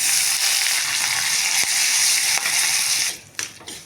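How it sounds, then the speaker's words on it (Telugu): Steady, loud sizzling of tempering spices (crushed garlic, dried red chillies, asafoetida, curry leaves) frying in hot oil, crackling continuously before dropping off sharply near the end with a few clinks. "ఇప్పుడు తాలింపు అంతా వేగిపోయింది"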